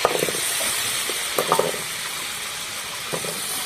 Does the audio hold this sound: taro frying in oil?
yes